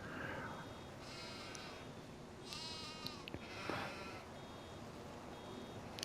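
Sheep bleat in a farming video game on PS5, several short wavering bleats heard faintly over a steady background hum.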